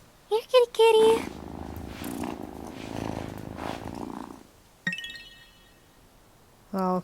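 A cat purrs in the farming video game Wylde Flowers, a low rumbling hum lasting several seconds among chiming game sound effects, with a person talking over it.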